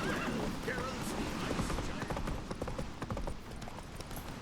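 Roach the horse in the Witcher 3 video game, galloping hoofbeats thudding in quick rhythm with a brief neigh early on, set under music and other game sounds.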